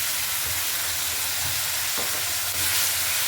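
Ground mustard-poppy paste fries in hot oil with fenugreek seeds for a hilsa dish, making a loud, dense, continuous sizzle with one sharper scrape of the spoon midway.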